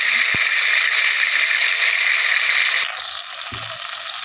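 Onion, garlic and green chili paste fries in hot oil with spices in a village-style chicken curry pot, giving a loud, steady, close sizzle with a few brief knocks of a utensil, and no voices.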